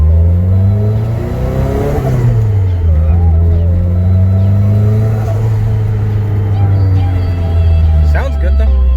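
A Nissan S13 with a boost gauge fitted revs hard under load during a turbo boost test, the engine note climbing, dipping at a shift and rising again, loud and close beneath a voice.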